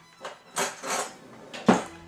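Dry ingredients for carrot muffins stirred together in a bowl, heard as a few scattered scraping knocks and clinks of a utensil against the bowl, fairly quiet and uneven.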